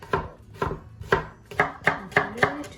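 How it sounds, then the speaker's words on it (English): A knife slicing halved shallots on a cutting board, about eight crisp, evenly spaced chops in a steady rhythm, close and clear with no talk. "I'm just going to cut them in half and into nice slices like this."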